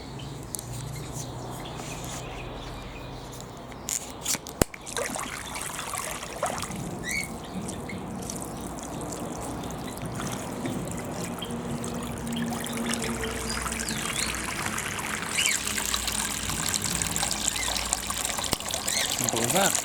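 Steady rainwater trickling and pouring continuously from a gravity-fed hose off a barrel at an outdoor aviary, with faint birdsong and some outdoor background noise around it.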